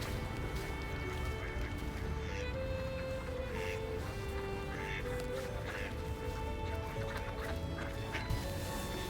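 Ducks quack in repeated short bursts over a steady background hum in Toronto, several birds calling at a moderate distance.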